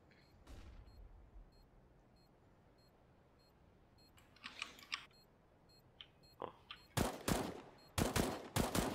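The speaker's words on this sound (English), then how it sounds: "I'm throwing a flashbang." In Counter-Strike on the Dust2 map, a flashbang is thrown amid sharp bursts of gunfire that grow denser and louder toward the end, over a faint background hum, with no voices.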